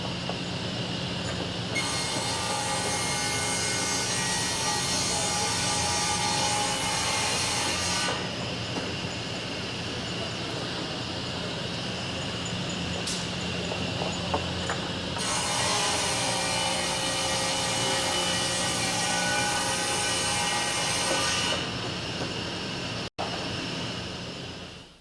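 A large industrial saw ripping a wooden board to width in a millwork shop, a loud sustained machine whine with two long cutting passes, dropping to a steady idle hum between and after them.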